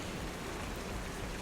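Steady rain sound effect for a tabletop fantasy game, a dense even hiss of falling rain with no pauses, no voices, filling the short stretch at constant loudness.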